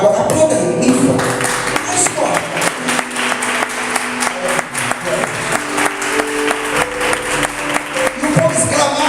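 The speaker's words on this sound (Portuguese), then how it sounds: "Agora aplauda aí, Ifa." A church congregation claps during a sermon, loud rhythmic clapping close by with some musical tones beneath, sustained throughout without clear speech.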